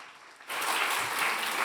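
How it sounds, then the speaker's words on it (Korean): A church congregation at a Korean Sunday worship service bursts into steady applause after a brief quiet moment, the dense clapping filling the room and holding at an even level to the end. "2분 너무 박수 한번 쳐주십시오"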